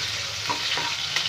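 Whole garam masala and onion frying in hot oil, a steady close sizzle with stirring scrapes running throughout.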